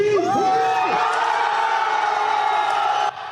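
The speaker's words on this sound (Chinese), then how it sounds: "支持者大声欢呼" Supporters cheer loudly outside a courthouse for a released party chairman, a dense crowd of whoops and shouts swelling and holding, with excited voices rising above the roar before it cuts off.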